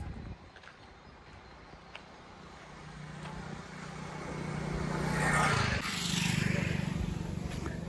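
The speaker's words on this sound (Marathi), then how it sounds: "बघू शकता इथून गाड्या बिड्या येत आहे पब्लिक." Vehicles pass along a forest road, a low engine rumble building and swelling as one goes by close around the middle, with a steady traffic hum and no talk.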